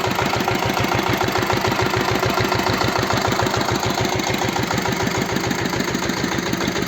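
A small single-cylinder walk-behind tractor engine runs steadily at idle with a fast, even chugging pulse, close and loud, with no voices.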